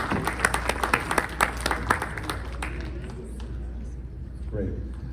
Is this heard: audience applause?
yes